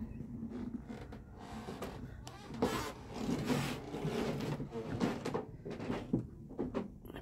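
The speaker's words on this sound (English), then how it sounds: "If you hear any squeaky, that's me walking across the floor." Old wooden floor creaking under footsteps in an antique market booth, a steady run of soft, close squeaks and rubbing groans rising and falling over several seconds.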